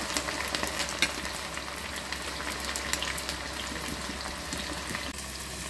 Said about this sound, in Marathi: या भेंडीला तेलमध्ये छान फ्राय करून घ्यायचं आहे।